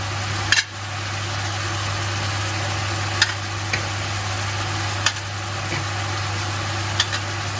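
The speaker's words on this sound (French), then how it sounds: "Et on va faire griller notre viande." Beef sizzles while grilling in a pan with aromatic herbs, a steady hiss over a constant low hum, broken by a few sharp clicks and knocks of stirring utensils, no talk.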